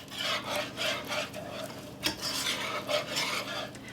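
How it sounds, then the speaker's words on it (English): Butter and flour roux for chicken pot pie stirred in a pot, with a steady scraping, rubbing swirl and occasional light clinks of the utensil against the pot, close and continuous. "So we're going to let this just sort of melt down, mix it well."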